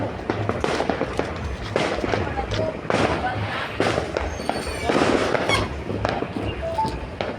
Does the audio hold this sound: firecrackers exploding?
yes